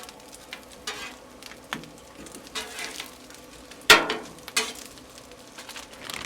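Eggs and tortillas frying on a Blackstone griddle make a quiet sizzle, with scattered spatula scrapes and taps, one sharp clack near the middle.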